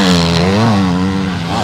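Kawasaki motocross motorcycles racing on the sand track at Loon-Plage, engines screaming loud and close with a steady high-revving whine that shifts pitch as the riders work the throttle.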